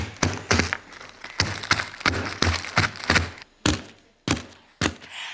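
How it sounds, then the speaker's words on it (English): Ice cubes crushed in a freezer bag with a rolling pin, a rapid run of loud thuds and cracks that slows into a few separated heavy bashes. "the best way to do this is to use a rolling pin and give them a bash"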